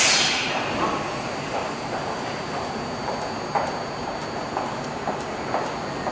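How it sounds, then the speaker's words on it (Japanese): A Tokyo Metro Ginza line train pulls out of Shibuya station, a steady rolling rumble with rhythmic wheel clacks over rail joints, heard from the platform at moderate level. "1番線から列車が発車いたします。"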